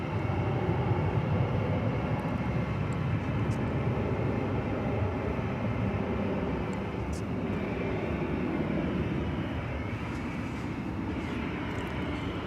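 A Qatar Airways Boeing 777 taxis past Terminal D at DFW Airport at night, giving off a steady, broad jet-engine rumble and hiss from a moderate distance.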